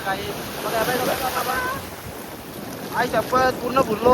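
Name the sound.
sea waves at Diveagar beach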